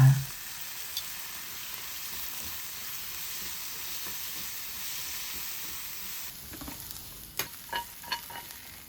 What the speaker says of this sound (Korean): 양파가 투명해지면 소스 3스푼 넣고 졸입니다.